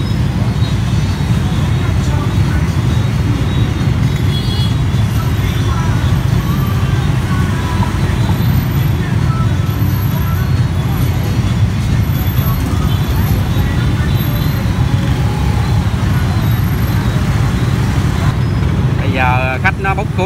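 Dense Vietnamese road traffic stuck in a jam, a steady wall of low engine rumble from cars, buses and motorbikes, with faint horn-like tones and voices mixed in throughout.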